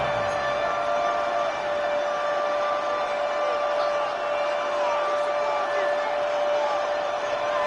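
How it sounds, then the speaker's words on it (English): Football stadium crowd roaring steadily before a third-and-long play in an Eagles game, a dense, loud wall of cheering and noise holding level throughout with no individual voices standing out. "The crowd cranking it up another notch before 3rd and long."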